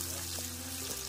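Spices frying with onions in a pan for beef yakhni curry, a constant dense sizzle close up, with faint background voices under it.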